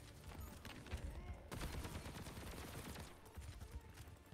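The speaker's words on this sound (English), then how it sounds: "I'm shooting the air right now" Rapid gunfire fired into the air in an Overwatch match, a dense continuous burst of shots at moderate distance with little else around it.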